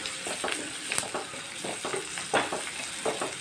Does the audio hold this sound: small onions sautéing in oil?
yes